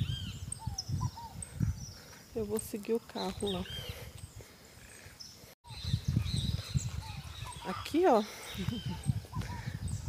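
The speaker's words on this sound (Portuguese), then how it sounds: "Tem uns barulhos de pássaros." Several short bird calls, crow-like caws, ring out at moderate distance amid outdoor background noise near an abandoned, overgrown morgue ruin, while a person talks over them.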